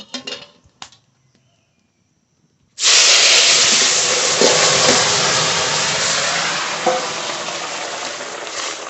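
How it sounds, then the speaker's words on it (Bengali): Vegetables poured into hot oil tempered with radhuni and whole cumin erupt in a sudden loud hiss that stays strong and steady, easing only slightly as the frying continues; a few light clinks come just before the pour. "ফড়ন করে নিয়েছি এবার তরকারি ঢেলে দেবো"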